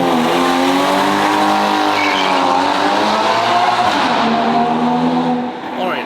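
A Porsche Cayman's 2.7 liter engine with an upgraded exotic exhaust drives on the highway, loud and close inside the car, its rich harmonic drone rising and falling through gear and throttle changes.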